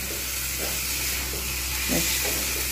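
Taro stolons (kochu loti) fry in a pan with a constant hissing, steamy sizzle and a few faint stirring scrapes; no voices.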